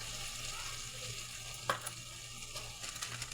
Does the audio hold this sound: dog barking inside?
no